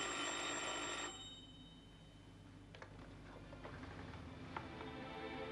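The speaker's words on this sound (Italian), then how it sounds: "Perché non rispondi al telefono?" A telephone bell rings loudly for about a second, then cuts off, leaving a quiet room tone with a few faint clicks and knocks.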